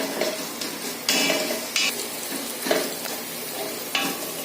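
Ginger-garlic paste sizzles steadily in a hot pan for mutton biryani while a utensil stirs and scrapes, with several sharp metallic knocks against the pan, close and continuous.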